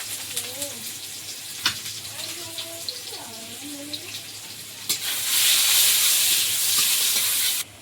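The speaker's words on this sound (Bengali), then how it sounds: "শুধু কাঁচা ঝাল দিয়ে দিই তেলে" Chopped onion and green chilies fry in hot oil in a village home kitchen in the Sundarbans, a steady sizzle under a voice that swells into a loud, hissing burst for the last few seconds.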